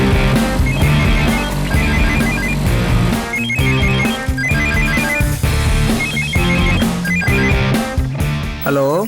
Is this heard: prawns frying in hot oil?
no